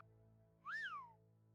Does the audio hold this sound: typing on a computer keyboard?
no